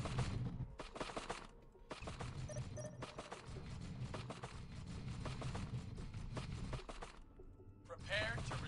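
Rapid bursts of gunfire from units in the Dawn of War real-time strategy game with the Unification mod, Dark Angels against Necrons, crackle and chatter in volleys while a voice talks over the battle.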